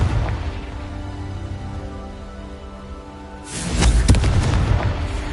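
Confringo fire spell blasts in the video game Hogwarts Legacy: a low, sustained rumble gives way to a loud, sudden burst of explosion with a booming tail.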